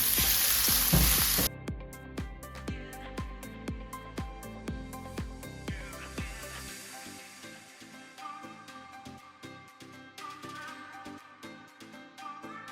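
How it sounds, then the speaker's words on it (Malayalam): Chopped banana sautéing in ghee in a pan gives a frying sizzle under regular scraping stir strokes that tick in a steady rhythm, loud at first then quieter, close up with no talk. "അതിലേക്ക് നമ്മൾ അരിഞ്ഞു വെച്ച ഏത്തപ്പഴം ചേർത്ത് കൊടുക്കാം. എന്നിട്ടിത് നന്നായിട്ടൊന്ന് വഴറ്റിയെടുക്കാം"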